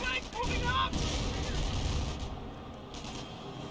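Gunfire from a World War II battle in the strategy game Company of Heroes rattles continuously under a voice, a dense burst of crackling shots and distant fire that softens toward the end.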